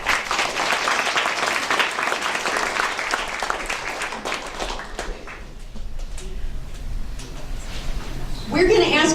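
Audience applause at a state house district candidates' forum, strong clapping that fades out after several seconds, leaving room noise before a voice begins speaking near a microphone.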